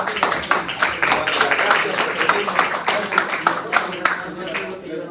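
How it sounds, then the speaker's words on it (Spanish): A group of students gives a welcoming round of applause, with dense, fast, steady hand clapping throughout and voices mixed in. "Aplauso de bienvenida, ¿cierto?"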